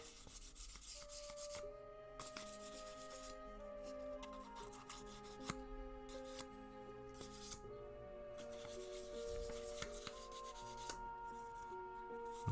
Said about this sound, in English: No, we're sanding.